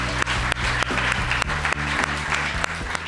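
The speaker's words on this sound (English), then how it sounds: "How about one more round of applause for the great staff here?" Dense applause from a crowd fills the clip, steady throughout with scattered sharp claps standing out.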